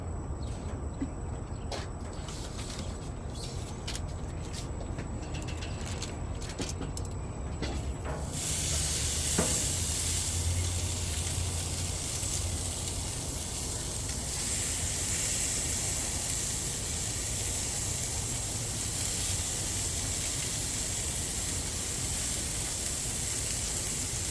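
Meat lands on the oiled grates of a Monument gas grill with all four burners lit, and a loud, steady sizzling hiss bursts in and continues, after some quieter clicks and handling sounds.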